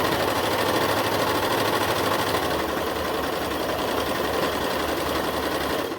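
A Brother coverstitch sewing machine fitted with a single fold binding attachment runs flat out at high speed, giving a steady, loud mechanical whir that holds without a break until it stops abruptly at the end.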